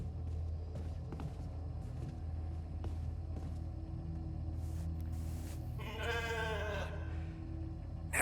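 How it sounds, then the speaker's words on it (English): Sheep bleating in the video game The Alters, a single wavering bleat rising clearly over a steady low engine-like rumble and scattered soft clicks, fairly close and prominent near the end. "Never thought I'd be so glad to see a sheep."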